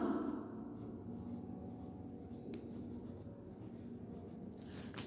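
A pen scratches steadily across paper while a grammar exercise answer is written out, a continuous soft near scratching that runs throughout with no voice.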